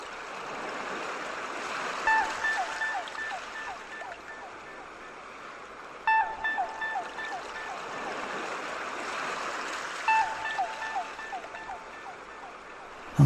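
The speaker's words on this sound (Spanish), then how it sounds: "Aunque suene esta agua" Steady broadband rush of flowing water from a mountain stream in the Sierra Mágina near Bélmez de la Moraleda, continuous and fairly close, with faint recurring chime-like tones every few seconds and no talking.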